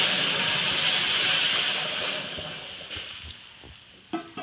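Lentils hit hot tempering oil with a loud, hissing sizzle that gradually fades, followed by a few faint clinks and small knocks near the end.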